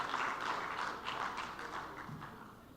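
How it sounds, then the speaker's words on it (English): An audience at a peace and security forum plenary applauds, a dense wash of clapping that holds steady and slowly fades over a few seconds. "Shall we give him another round of applause,"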